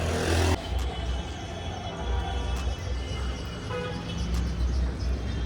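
A car horn sounds in a short blast on a busy city road, followed by continuous traffic rumble and scattered further distant honks.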